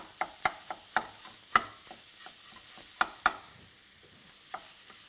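Sausage being chopped and stirred in a pan for a bacon-wrapped stuffed pork tenderloin, with sharp close scrapes and taps at an irregular pace over a faint sizzle, with no talking.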